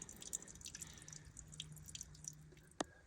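Water drips and trickles from the plumbing of a Forest River Sunseeker RV as its lines are drained for winterizing, with sparse, uneven drops, one sharper splash near the end, and a low steady hum underneath.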